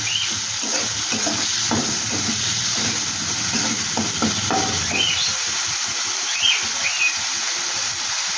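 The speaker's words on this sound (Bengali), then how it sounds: "পেঁয়াজটা একটু ভালো করে ভেজে নেব।" Two large onions fry in oil in a pan, a close, steady sizzling hiss punctuated by repeated stirring taps and scrapes against the pan.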